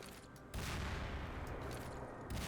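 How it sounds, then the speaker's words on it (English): An SMG grenade launcher fired in Garry's Mod produces a sudden loud blast that swells into a sustained, roaring rumble. A quieter stretch comes before it. "We throw a grenade."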